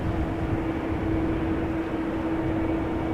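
An American Airlines Boeing 787 Dreamliner at Schiphol airport gives a steady, even jet drone with a thin sustained whine running through it, constant in level and with no voices.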